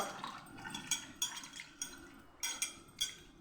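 Hibiscus flowers are washed in water for juice, with soft splashes and small clinks of a vessel repeating every half second or so, quiet and close.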